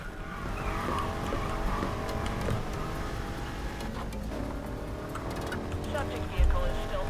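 A car in the racing game Need For Speed Heat revs and skids with tire squeals during a police chase, engine tones rising and falling close up while a voice talks over it.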